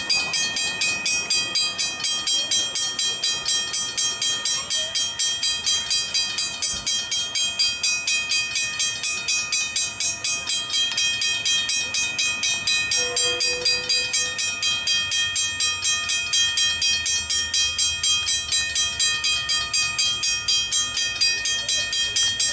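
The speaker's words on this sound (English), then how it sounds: "There's a train coming." A train approaches and passes the Fitzherbert Street level crossing on SH2 in Featherston, its rolling rumble building under the steady, rhythmic ringing of the crossing bells, with a brief tonal sound partway through.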